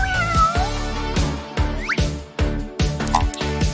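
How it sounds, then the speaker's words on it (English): A cat meows a few times over a busy, rhythmic music bed, the calls standing out as short squeaky bursts amid the steady beat. "Oh, what a pretty kitty."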